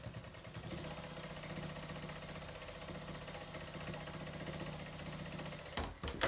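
A sewing machine stitches a decorative line in aqua thread, running as a steady close mechanical hum with a fast rhythmic chatter that stops abruptly near the end.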